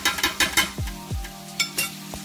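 Meat with black pepper and turmeric frying in a pot under constant stirring, close sizzling punctuated by sharp clanks and scrapes of a spoon against the metal.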